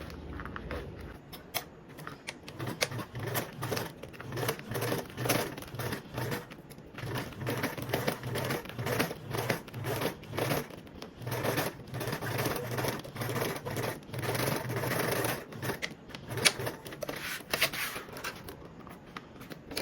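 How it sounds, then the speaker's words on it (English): A sewing machine top stitches seams on stiff mesh in repeated bursts of rapid mechanical clatter, close and moderately loud, with brief pauses and handling rustles between runs. "we're going to top stitch these seams with a 1/4 seam allowance"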